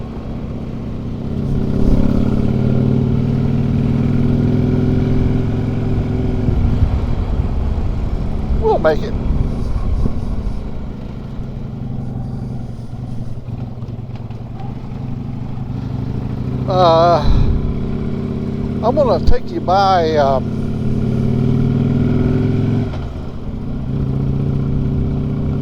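A motorcycle engine hums steadily throughout a ride, a mid-pitched drone under loud talking, with a few brief whistling sounds partway through.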